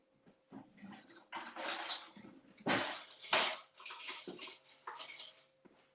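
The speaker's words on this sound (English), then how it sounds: "So I'm going to get a tablespoon of light mayo." A spoon scrapes and scoops light mayonnaise out of a jar in a series of short, close clinks and wet scraping strokes, irregular and fairly quiet.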